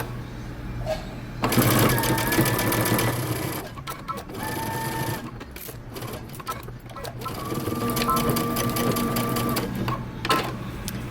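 Sewing machine stitching 3/8-inch seams with back stitching on bomber jacket tabs: bursts of rapid mechanical whirring, stopping and restarting several times, with brief pauses between runs; a voice talks faintly at times.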